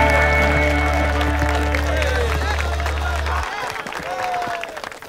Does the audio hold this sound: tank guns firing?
no